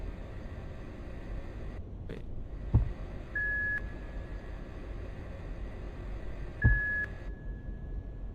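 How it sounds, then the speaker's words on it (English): Two steady electronic beeps, each a clean high tone lasting about half a second, sound a few seconds apart, each set off by a soft thump, over a constant low hiss inside the Iron Lung game. "Beep, beep, beep, beep, beep."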